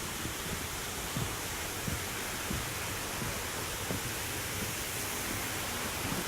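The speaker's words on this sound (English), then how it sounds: "It's going to get a little bit loud here, guys, because we're coming to a waterfall." A waterfall at Roche Abbey, a steady broadband roar of rushing water heard from close by, loud and unbroken, with faint low thumps beneath it.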